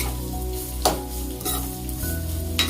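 Ingredients for ridge gourd chutney sizzle steadily in a pan, with a spoon scraping and stirring in a few distinct strokes over the continuous close frying hiss.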